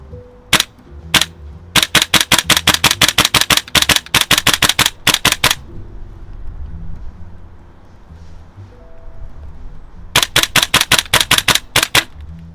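A GHK Colt M4 version 2 gas blowback airsoft rifle fires loud, sharp shots up close: one single shot, then rapid strings of closely spaced cracks, a quiet pause with faint handling noise, and another burst at the end.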